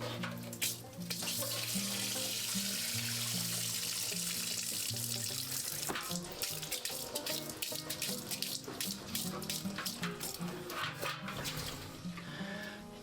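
Sanitizer liquid pours out of a homebrew fermenter in a steady splashing gush that fades into irregular glugs and trickles, heard close up with background music underneath.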